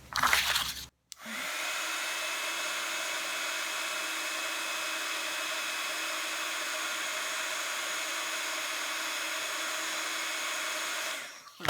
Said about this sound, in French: le bruit du pistolet à embosser